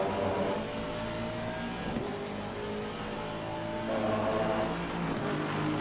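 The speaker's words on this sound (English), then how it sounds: "You should be able to hear the engine and everything good." A race car engine in a sim racing game at Silverstone drones and revs steadily at high pitch, with shifting tones as it accelerates and brakes, close and continuous without any talking.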